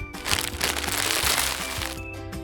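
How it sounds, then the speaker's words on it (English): A chip packet is pulled open with loud, continuous crackling and crinkling of plastic foil lasting a couple of seconds, close up and alone. "It's a chip packet being opened."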